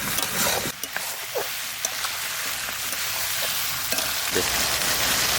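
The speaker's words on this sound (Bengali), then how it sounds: "আমি যে প্রথম হাঁসের মাংস রান্না করছি" Loud, steady sizzling of duck meat frying in a pan, with a few sharp stirring scrapes breaking through the hiss.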